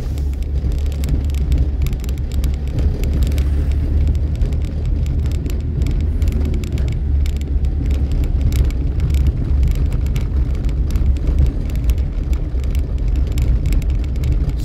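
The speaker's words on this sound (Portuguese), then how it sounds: "Aqui o carro entrou ali." Car engine and tire noise rumbling continuously nearby, a steady broadband roar with no clear pass-by peak, no speech.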